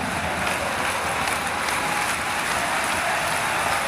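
Steady crowd applause filling an arena at a Gilas Pilipinas basketball game against Indonesia, a dense continuous wash of clapping with no break, loud throughout.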